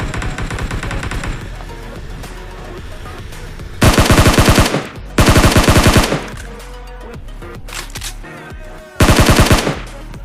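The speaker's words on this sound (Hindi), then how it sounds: "तो मुझे इस साइड से शॉट सुनाई आ रहे थे" In PUBG Mobile, loud bursts of machine gun fire and gunshots ring out in several rapid sustained volleys, close and dominant, with steady game background noise between them.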